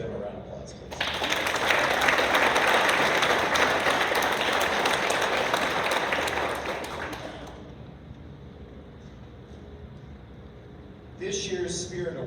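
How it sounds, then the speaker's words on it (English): Audience applause at a high school concert band spring concert, a burst of clapping for about six seconds that fades into room noise, then a voice begins speaking. "Let's give them a round of applause,"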